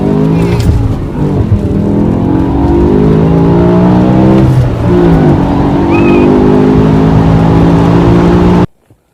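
A BMW E60 M5 accelerating hard, loud and close, its engine climbing through several rising sweeps with brief dips between shifts before cutting off abruptly at the end.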